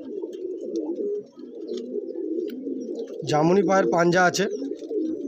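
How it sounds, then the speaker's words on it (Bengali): Pigeons coo repeatedly in a bustling pigeon shop selling Andhra pigeons in Bagnan: layered, throaty coos rise loud and close in the second half over a steady hum of many birds, with someone talking throughout. "প্রচুর পায়রা আছে এখানে, যার কারণে এত আওয়াজ ঘুঁ ঘাঁ করতেছে কানে কাছে"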